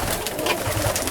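Pigeons cooing steadily in a loft during a winter storm, a close, continuous soft murmur of calls over a rushing background.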